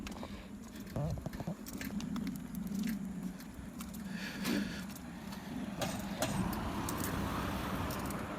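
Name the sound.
cars passing by on the road at night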